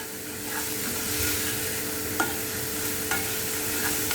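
Chopped onions frying over medium to high heat in a pan, a steady close sizzle broken by a few light clicks and scrapes of stirring, with no talk.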